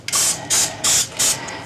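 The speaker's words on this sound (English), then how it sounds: "Now we're going to spray our pan with Pam." A can of Pam cooking spray hisses onto a baking pan in four short, loud bursts that are evenly spaced and close to the microphone, with no talking.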